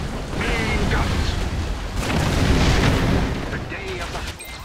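Naval gun volleys from Red Alert 3 Pearl Harbor combat land as two loud, rolling swells of explosion rumble, close and heavy, fading toward the end.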